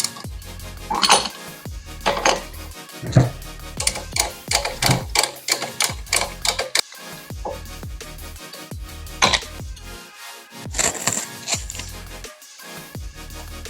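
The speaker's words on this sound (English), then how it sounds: "as you crank it, it pushes both of those calipers back" A hand-cranked brake caliper piston tool pushes both caliper pistons back, giving a run of close, uneven metallic clicks and ratcheting knocks with short pauses between bursts.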